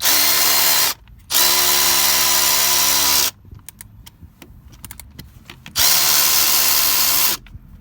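A power tool on a 2009 Ford Fusion starter runs in two long, loud bursts, unscrewing a nut, with a quieter stretch of small clicks and rattles between them.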